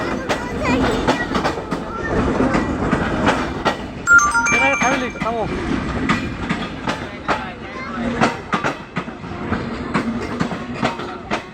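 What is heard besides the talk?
moving train, clickety-clack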